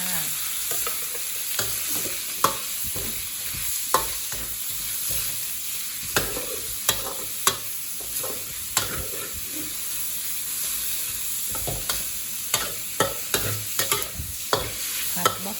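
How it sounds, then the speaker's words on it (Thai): Pork neck is stir-fried with golden garlic in a hot pan for broccoli pork, a steady loud sizzle broken by repeated sharp scrapes and clanks of a spatula, with no talking. "ใส่หมูลงไปเลยค่ะ ใส่หมูลงไปผัดเลยจ้า"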